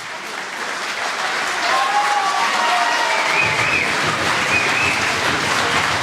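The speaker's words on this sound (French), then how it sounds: "je vous demande de faire un tonnerre d'applaudissements pour Manon Meunier, Marine Maximi, Catherine" Thunderous applause from a crowd at a political meeting against the rising cost of living in Limoges, swelling in the first seconds and then holding as a dense, loud, continuous clapping with faint cheers.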